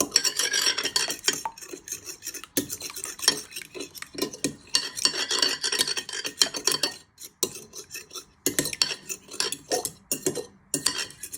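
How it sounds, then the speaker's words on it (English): A fork whisks eggs in a bowl, producing rapid, close metallic clicking and tapping in irregular bursts with short pauses, no talking. "Now you want to start whisking your eggs with a fork"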